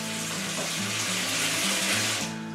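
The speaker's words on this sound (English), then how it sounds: "I'm going to draw a bowl of hot water, and then I'm going to put my cans in it." Hot water runs from a tap into a bowl, a continuous loud splashing gush that stops abruptly near the end, with no talking.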